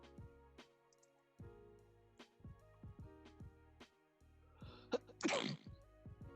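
A sudden sneeze bursts out near the end, loud and sharp against a quiet, steady background.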